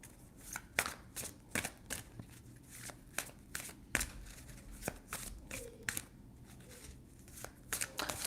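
Tarot cards are shuffled by hand in a steady series of crisp riffling flutters and soft taps, close and quiet, repeating rhythmically without talking.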